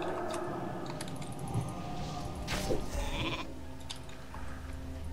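Sheep bleating in the video game World of Warcraft, a couple of short calls over a steady background of game sound and light keyboard clicks, no talking.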